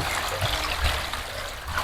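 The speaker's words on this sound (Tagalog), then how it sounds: "agos yung mga gripo rito" Water pours and trickles steadily from several newly installed hand-wash faucets running together, a close, continuous splashing stream with no talk.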